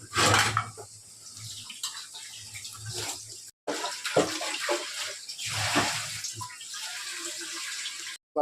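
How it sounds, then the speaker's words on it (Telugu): Running water splashes into a metal vessel as it is rinsed before making idli, a close, steady gush with clinks and swirls and one short break midway. "ఇడ్లీకి రెడీ చేస్తున్నా పాత్రలో శుభ్రం చేసుకో"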